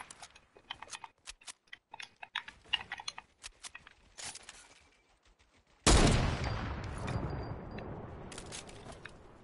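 Gunfire in an online shooter video game rattles as rapid clusters of sharp cracks, sporadic at first, then a sudden louder blast with a long decaying wash, close and without talk.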